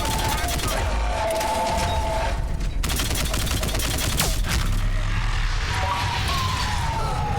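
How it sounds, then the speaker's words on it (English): Assault rifle fire in the Mass Effect 3 video game, dense bursts of automatic shots running through most of the span against a busy combat soundscape, with a voice speaking briefly under the gunfire. "Let's try the assault rifle."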